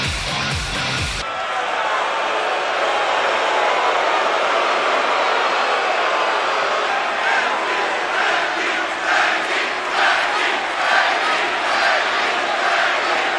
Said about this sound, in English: I want you to pay attention to the crowd during this next bit